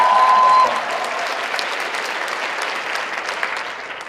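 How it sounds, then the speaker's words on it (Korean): Steady applause from an audience at a Nu Skin business presentation, dense and continuous throughout, with a faint tone at the start before the clapping settles into an even wash. "박수 한번 다시 한번 쳐주시면 감사합니다."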